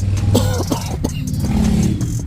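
A loud, low engine rumble from a nearby old Buick Riviera, idling with a few revs. A short throat-clearing noise sounds over it.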